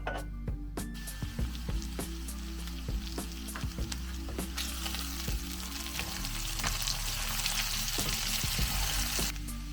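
Pork with sauces and spices cooks in a covered pan with a constant bubbling sizzle, punctuated by sharp pops and clicks throughout and a low steady hum underneath.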